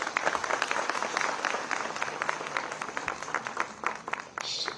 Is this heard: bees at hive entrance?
no